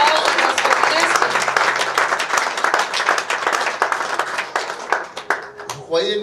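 Sustained clapping from a worship audience at an evangelical church service, dense and fairly loud for several seconds, thinning out near the end, with voices speaking over it.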